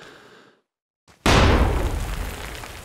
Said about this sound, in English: I believe I forgot to show the Type 67 grenade here, which is a stick grenade armed by pulling the fuse out of the bottom